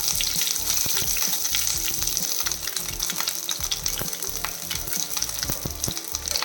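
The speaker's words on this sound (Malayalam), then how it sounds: "അതിൽ രണ്ട് സ്പൂൺ ഓയിൽ ഒഴിച്ചു അരര ടീസ്പൂൺ കടുക് ഇട്ട് കൊടുത്തിട്ടുണ്ട് ഇതിൻ്റെ കൂടെ നമുക്ക് കുറച്ച് കറിവേപ്പില ഇട്ട് കൊടുക്കാം" Mustard seeds and curry leaves sizzle and crackle in two spoons of hot oil, a dense, continuous frying hiss scattered with sharp little pops. The cooking is close and steady throughout, and no voices are heard.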